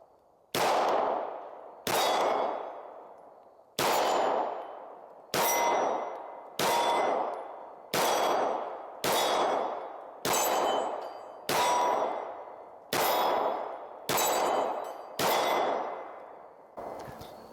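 A Springfield Armory XD Mod 3 polymer-frame pistol fires about twelve loud single shots at an unhurried, fairly steady pace, each a sharp crack with a ringing tail, and no talking is heard.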